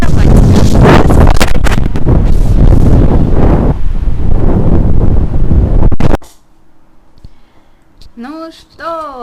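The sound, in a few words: wind blowing into the microphone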